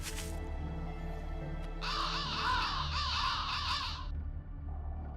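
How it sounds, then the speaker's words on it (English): Crows cawing in a video game, Fate/Grand Order: a dense, loud flock of harsh caws fills the middle of the clip over a low steady background hum, then cuts off abruptly. "Ooh, I've never seen so many crows in one place."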